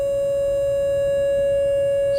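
A pure synthesized sine-wave tone hums at a single steady mid pitch, smooth and even in volume, sounding alone and unbroken from start to finish.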